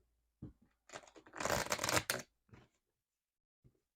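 Oracle cards are shuffled and drawn by hand in a quiet room, giving a dense burst of papery riffling in the middle with a few softer card taps before and after. Close and fairly faint, with no talking.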